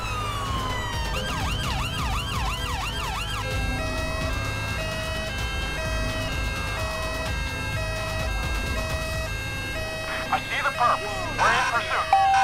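Wailing ambulance siren from the GTA 5 LSPDFR police mod, sweeping up and down steadily throughout amid game music and traffic noise, with a clatter of sounds near the end.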